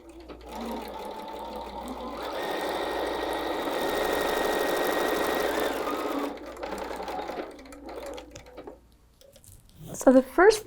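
A sewing machine stitches a quarter-inch seam in quilting fabric for a table runner, a loud, steady whirring run lasting several seconds before slowing and stopping, followed by a few brief handling clicks.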